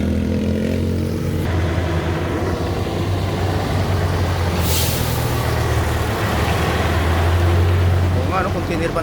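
A truck comes to pick up rubber in the hills of Davao de Oro. Its engine gives a loud, close, steady rumble with a hiss like an air brake partway through, and people talk over it.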